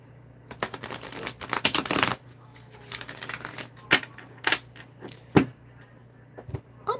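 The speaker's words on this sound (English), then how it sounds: "Let me shuffle this deck." A tarot card deck is shuffled close by, with bursts of riffling and flicking cards, then scattered single snaps and taps amid quiet pauses.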